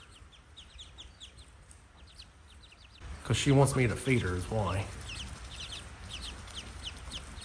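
Hens on a farm cluck and chirp in short bursts, at a moderate distance and fairly soft, continuing throughout while a person talks nearby for a few seconds in the middle.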